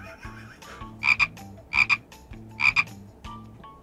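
Frog croaking in three distinct double-pulsed bursts spaced about a second apart, loud and close, over a faint low background hum.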